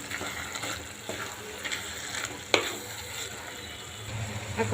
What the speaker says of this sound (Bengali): এখন আমি ডিমটা একসাথে দিয়ে দিব ডিমটা এখন মিশিয়ে দিব